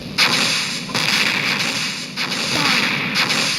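Missile launches and explosions in a video game come as loud, booming blasts with sharp cracks, repeating several times in quick succession.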